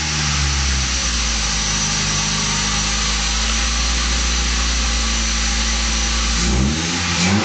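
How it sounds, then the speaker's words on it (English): A Honda car engine with a faulty idle air control valve idles too high with a steady droning hum. Near the end the revs surge briefly. "As soon as I give it gas, so it goes up and down."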